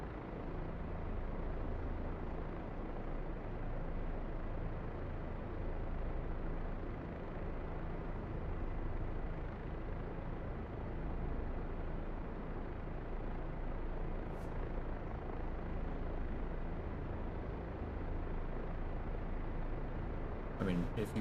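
AH-64 Apache helicopter in a flight simulator game: a steady, dense rotor and engine drone holds at an even level throughout, with a couple of brief clicks near the end.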